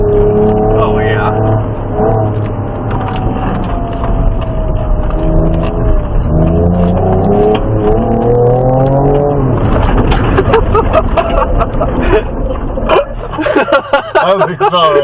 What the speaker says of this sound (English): I was accelerating.